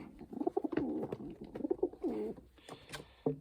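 Several young sport pigeons coo nearby in overlapping, throaty rolling calls, with soft rustling and a brief higher chirp toward the end.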